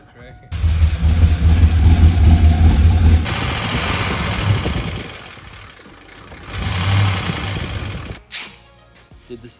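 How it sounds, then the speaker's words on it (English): GMC work truck with a 6.0 LS V8 and a suspected lifter tick, running close by, revving up and settling back twice, with people talking over it. "It sounds like lifters."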